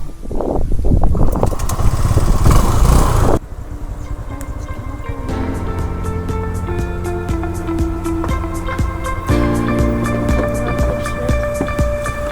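A motorbike parked by a large volcanic lake, heard close as its engine catches with a loud burst, then settling into a steady, rhythmic idle with a faint tonal whine.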